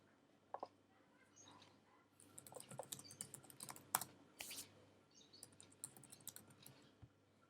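Keys clatter on a computer keyboard as a command is typed for installing an Ionic Cordova Firebase messaging plugin, a faint, irregular run of clicks with a few louder taps and quiet gaps in between.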